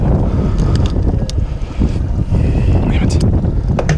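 Strong wind buffets a fishing boat out on a striper trip, a loud continuous rumbling gust noise with wind hitting the microphone, water and hull sounds mixed in, and a voice speaking under it.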